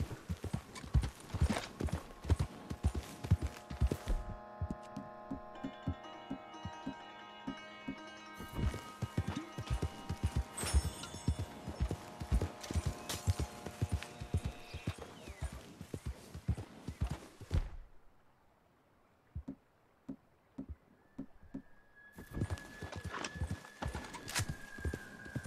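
Rapid clip-clopping horse hooves in Red Dead Redemption 2 over a musical game soundtrack, with a brief whinny, then a quieter pause before the hoofbeats resume.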